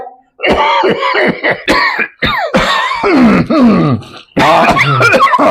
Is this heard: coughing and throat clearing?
yes